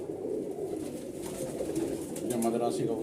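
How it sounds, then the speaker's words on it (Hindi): Madrasi pigeons kept among Tatira birds coo in a low, continuous murmur of overlapping calls, with a person talking close by over them. "ये मद्रासी कबूतर हैं उस्ताद जी के टटीरों में।"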